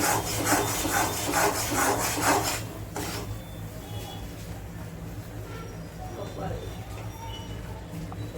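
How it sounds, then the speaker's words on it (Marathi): A spoon stirs and scrapes flour roasting in ghee in a pan for til-gul poli, a steady rasping rub that is loud at first and then fades to a low background scrape, with a voice speaking over it. "आता हे सातत्याने तुपामध्ये पीठ हलवत राहायचं नाही तर खाली लागण्याची शक्यता असते सतत ढवळत राहायचं"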